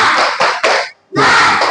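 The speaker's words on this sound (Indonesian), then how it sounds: "tepuk tangan dulu untuk kita semua." A class of students clapping their hands together in a classroom lesson, several loud bursts of group applause with a brief pause in the middle, close and full.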